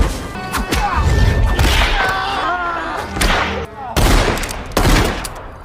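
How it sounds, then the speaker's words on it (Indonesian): Loud, rapid gunfire crackles in bursts over a dense, busy film soundtrack with thumps and crashes, briefly dropping out before another volley. "mendengar suara tembakan"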